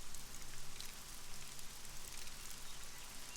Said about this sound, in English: And the rain's just coming in.